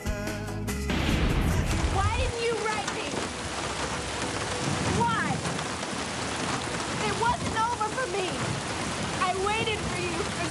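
Steady rain pours down during a boat ride in a film scene, a dense continuous hiss with scattered drips, while voices talk over it throughout.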